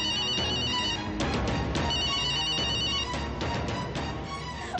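A phone ringtone plays loudly and continuously, ringing unanswered in a repeating electronic melody pattern with no voices over it.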